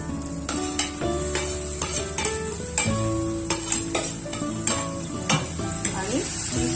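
Stuffed brinjals sauté with half-cooked potatoes in a pan. A continuous sizzle runs beneath regular spatula scrapes and knocks against the pan, close and fairly loud, with no one talking.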